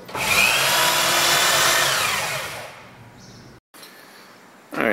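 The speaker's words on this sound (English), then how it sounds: "Switch over to a drill." A drill on a milling machine bores into a metal bearing housing for an etching press, giving a loud, steady whine for about three seconds that then tapers off, followed by quieter hum and a short burst at the end.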